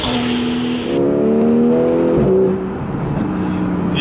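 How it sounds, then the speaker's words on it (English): A 2012–2013 Porsche 911 Carrera S with a PDK gearbox and flat-six engine pulls hard, its loud tonal note climbing through the revs, dipping at a quick gearshift, then rising again. "The engine is still the most thrilling part about driving a 911 for me. It's an absolute masterpiece, this flat six engine."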